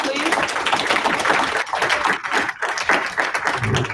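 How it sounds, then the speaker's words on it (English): An audience claps for a guest speaker after a lecture session; the applause is busy and close, mixed with voices talking over it. "Can we give her a round of applause,"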